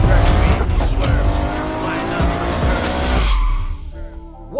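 A BMW F90 M5 with a twin-turbo engine accelerates hard, its loud, close engine roar climbing steadily with a tire-squeal edge, and a voice speaks over it before the sound drops away near the end.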